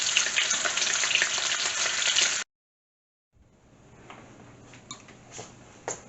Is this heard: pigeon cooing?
no